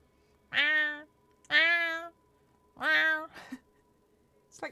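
A person imitates a cat, giving three drawn-out, clearly pitched meows at a steady pace, close and loud, followed by a short breathy sound and a brief faint vocal at the end.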